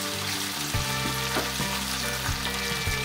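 Seafood and chicken pancit canton stir-fries in a hot pan with a loud, constant sizzle. Stirring gives periodic scraping thumps, close up with no voices.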